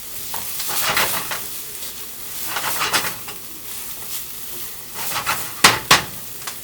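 A pan is deglazed and stirred, a utensil scraping the bottom in repeated strokes while the liquid sizzles loudly underneath, with a couple of sharp metallic clacks near the end and no talking.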